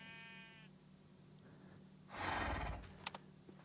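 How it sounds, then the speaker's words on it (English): A single sheep bleats briefly and faintly from a distance at the start. A louder rushing burst and a few sharp clicks follow in the outdoor quiet. "There's a sheep down there."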